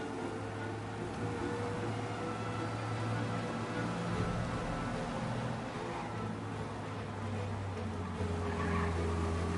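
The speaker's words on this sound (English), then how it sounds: "We lose them by driving real fast and getting clear of them." Car speeding along with engine drone and tire squeal in the video game Mafia 1, a continuous loud roar with steady engine hum and no talking.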